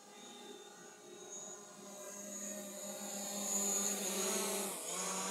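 A DJI Mavic Pro drone flies in to land in sport mode, a steady high whining buzz of its propellers with tonal harmonics, growing louder as it approaches and shifting pitch near the end, no talking.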